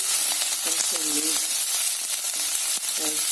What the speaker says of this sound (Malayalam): എണ്ണ ഒഴിച്ച് കടുക് പൊട്ടിച്ച് കുറച്ചുള്ളി